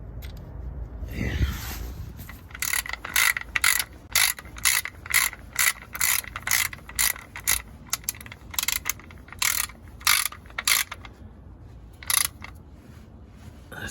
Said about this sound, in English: So now I'm going to turn that off with the ratchet.